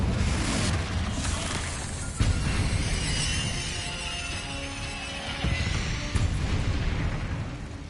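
Confringo blasting spell explosions in Hogwarts Legacy, a dense run of booming bursts with sharp hits near 2 and 6 seconds over a loud rumbling game bed, no talk.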